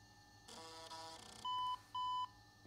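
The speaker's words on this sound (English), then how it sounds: "Two beeps and the CD-ROM," Two short electronic startup beeps from an old desktop computer with an MSI K7T Turbo motherboard sound in quick succession, preceded by a brief whir of the hard disk spinning up nearby.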